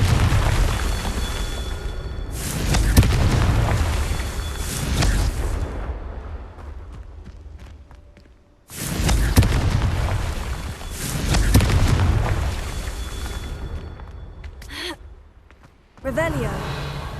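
Confringo fire spells go off in Hogwarts Legacy as loud, broad booming blasts in two long surges, each followed by fading rumble, with a sharp burst near the end.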